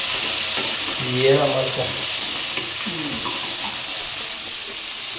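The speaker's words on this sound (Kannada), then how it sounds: "ಟೊಮೆಟೊ ಹಾಕಿದ್ದೀನಿ, ಇವಾಗ ಫ್ರೈ ಮಾಡ್ತಾ ಇದ್ದೀನಿ" Tomatoes frying in a pan while two people cook together at home, giving a steady hiss and sizzle with stirring, as a voice speaks briefly over it.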